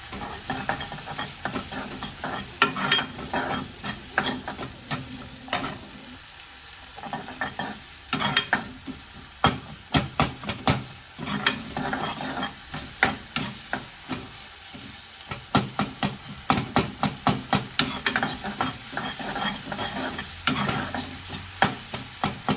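Onions for fish curry sizzle loudly in a hot pan while a spoon stirs and scrapes them in irregular bursts, close and continuous, with no voices.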